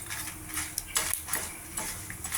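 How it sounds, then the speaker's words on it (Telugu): Tempering spices and dried red chillies frying in a pan for coriander chutney, a soft sizzle with scattered clicks of a spoon stirring against the metal. "పోపు వేగింది"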